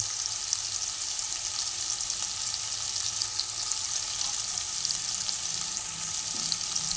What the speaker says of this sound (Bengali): মশলার সঙ্গে ভালো করে কষিয়ে নেব এইভাবে